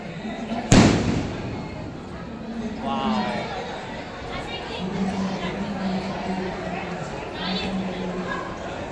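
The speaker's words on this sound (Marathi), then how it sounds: "फटाके" One sharp, loud firecracker bang goes off near the start at a temple, then people talk and chatter over a low background.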